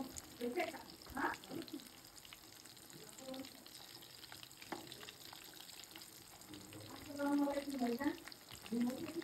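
Chitol fish kofta, made from fish caught in a village pond that morning, fries in oil with a soft, uneven sizzle, while people talk and move around nearby.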